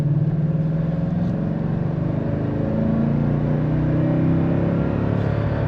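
A 2016 Toyota Tundra 1794 Edition pickup with a 5.7L V8 accelerates, its engine giving a steady, loud, low drone with a slowly rising pitch, heard from inside the cab.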